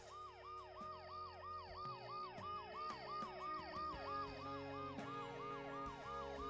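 Ambulance siren in the Dead Synchronicity video game wails in a fast, regular up-and-down cycle, steady and continuous with faint background clatter beneath it.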